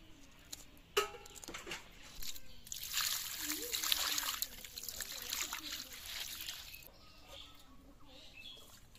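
Cut pieces of boyal fish are rinsed in water outdoors, with splashing and trickling that swell in the middle and then fade, a sharp knock near the start and faint birds in the background.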